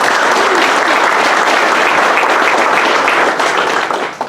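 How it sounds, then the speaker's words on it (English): A banquet audience gives a prep football Player of the Week award recipient dense, loud, sustained applause that stays steady before easing off at the end. "Give him a round of applause."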